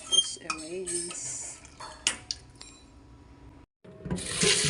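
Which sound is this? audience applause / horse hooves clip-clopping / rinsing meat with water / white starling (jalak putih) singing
rinsing meat with water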